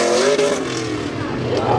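A supercharged Dodge Hellcat revs hard at a car meet, a loud, close, continuous engine roar with faint voices behind it.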